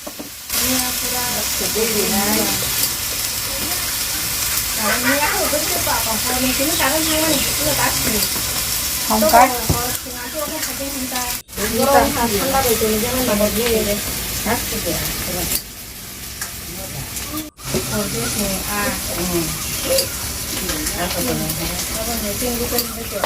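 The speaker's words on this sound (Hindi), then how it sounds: "जैसे जैसे मसाले भुन रहे हैं, खुशबू पूरे घर में फैल गई है।" Spices for chicken curry frying in a pan give a steady loud sizzle and hiss with occasional stirring scrapes, while a voice talks throughout.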